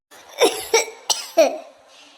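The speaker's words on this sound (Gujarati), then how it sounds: "બહુ ઉધરસ ને લાગે છે" A sick person with a fever coughs four times in a row, close and fairly loud, each sharp cough followed by a short pause.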